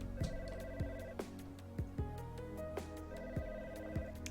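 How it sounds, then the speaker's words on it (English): Phone beeping in a quiet room: a repeated electronic tone pattern with sharp clicks about every half second, faint and alone. "had just pierced the plastic film on the lid when the phone started to beep again."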